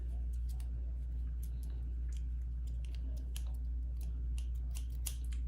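Repeated crisp snipping clicks from scissors cutting a frankincense incense stick, irregular and close, over a steady low hum.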